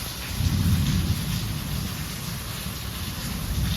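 Heavy rain pours steadily in a village, with low thunder rumbling through the downpour; a continuous loud wash with no voices.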